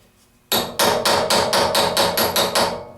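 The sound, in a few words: hammer striking gasket punch on oak block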